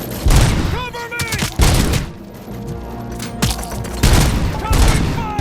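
Gunfire in the video game RoboCop: Rogue City, dense bursts of shots and booms firing in loud clusters with short lulls, with shouted voices in the mix.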